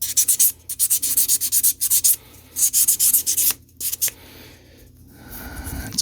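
An emery board rubs over a rusty metal part of a 106-year-old Molle No. 3 typewriter, giving quick, close scratchy strokes in bursts with short pauses, then a softer, duller rubbing at the end.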